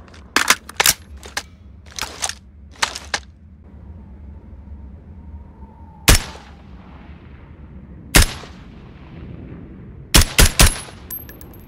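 M4A1 rifle gunfire in a video game: loud, sharp shots in quick bursts and single cracks, separated by pauses with ringing echoes and a quieter mechanical sweep between.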